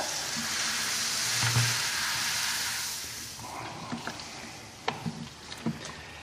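A large spoon stirring an all-grain beer mash in a brewing vessel gives a soft, continuous sloshing and scraping hiss, with a few small knocks and clinks toward the end.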